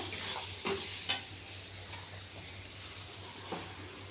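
Banana flower with ground prawn heads and a pinch of sugar sautés in a pan, giving a soft steady sizzle broken by a few sharp scraping clinks of stirring, with no voices.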